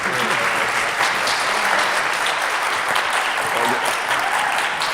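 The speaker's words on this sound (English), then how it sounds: "Please give a big applause to them." An audience at a startup challenge final gala applauds continuously, a dense, even wash of clapping that holds steady for several seconds without pause.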